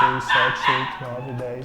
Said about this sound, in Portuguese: Olha o cachorro latindo lá fora agora.